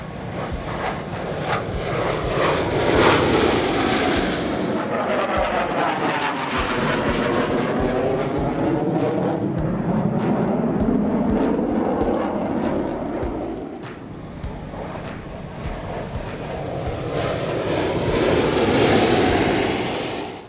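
Military jets flying in formation roar loudly and continuously overhead, with a sweeping rise and fall in pitch as they pass close by, engine noise filling the whole stretch with no talking.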